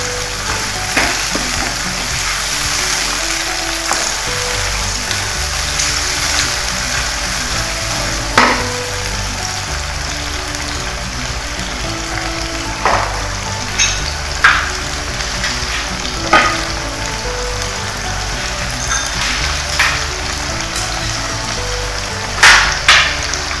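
Masala sizzles and fries hard in ghee in a pot for degi aloo gosht after water is added, a continuous loud crackle with occasional stirring clanks and scrapes.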